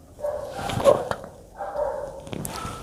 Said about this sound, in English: There are two dogs in my neighborhood who has a constant competition going on between them as to who can bark louder.